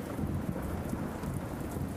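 Heavy rain pours with a low, rumbling thunder-like roar in a video game, a dense continuous wash of sound without any voices.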